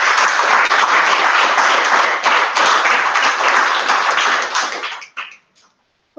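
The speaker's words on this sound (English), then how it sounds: "one more round of applause, please." Audience applause at a JavaScriptLA meetup talk at Farmers Insurance in Woodland Hills: dense, sustained clapping from a crowd for about five seconds, then thinning to a few scattered claps before falling silent.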